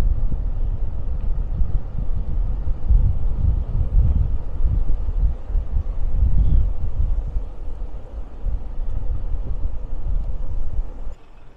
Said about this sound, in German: Da ist mir jetzt zu viel Wind.